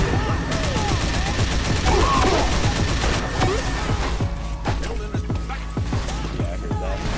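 Gunfire from a sniper during an online multiplayer shooter match, with a dense burst of shots early on, then sharp scattered cracks at a distance over a steady background of game noise.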